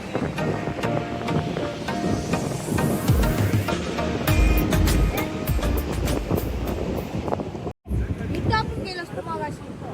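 Waves wash steadily against the Konkan coast at Harihareshwar in a continuous rushing roar mixed with wind buffeting the microphone, with brief faint voices near the end.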